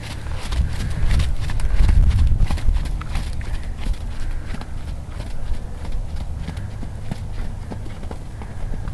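Hooves beat in an even two-time rhythm on firm ground, a horse trotting steadily nearby with light wind noise and no talking.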